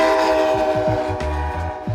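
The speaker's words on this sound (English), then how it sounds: "This is the California Zephyr," California Zephyr passenger train, which runs daily between Chicago and San Francisco, sounds at Truckee with a loud sustained horn chord over rumbling, clanking cars passing close by, heard alone with no talk.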